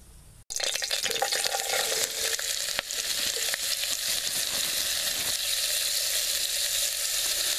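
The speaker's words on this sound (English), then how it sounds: "Get the oil hot and we're going to add the vegetables in." Vegetables drop into hot oil in a Polish Army wz. 23/31 mess kit and burst into a loud, continuous sizzle and crackle. The frying stays steady and close throughout, with no voices over it.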